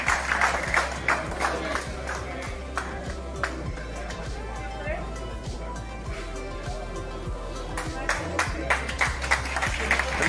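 Indoor crowd at an awards ceremony for a feeder fishing festival in Spain keeps applauding, a sustained mass of clapping with a few sharper claps rising out of it, while a voice talks over the noise.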